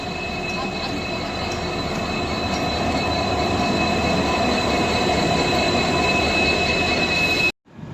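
A diesel locomotive-hauled train rolls into Madgaon station in light drizzle, a loud, close continuous rumble of wheels with squealing and clatter, cutting off abruptly near the end.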